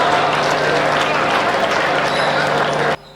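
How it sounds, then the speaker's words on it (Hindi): An audience at a Hindi comic poetry gathering in Hathras claps in dense, sustained applause for about three seconds before it cuts off abruptly. "इसलिए एक बार तालियां बजा दीजिए आप लोग"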